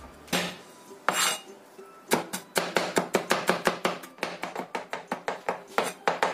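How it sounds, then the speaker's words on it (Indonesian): Kitchen knife finely chopping roasted eggplant on a board: a couple of separate strokes, then a fast, steady run of crisp, close knocks that keeps going to the end, with no talking. "Ini kita sisihkan dahulu ya, terong yang sudah kita panggang. Ini kita cincang halus ya."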